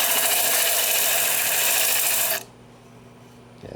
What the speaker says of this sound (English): to artfully sand the ends here just to make those look nice and rounded out